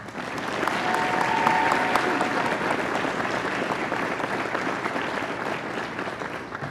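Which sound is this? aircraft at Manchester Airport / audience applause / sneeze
audience applause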